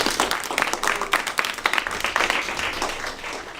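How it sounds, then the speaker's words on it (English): A crowd applauds two councilmen at a student leadership program event, a dense and lively burst of many hands clapping, near and loud at first and easing slightly toward the end, with no speech. "Can we give them a round of applause?"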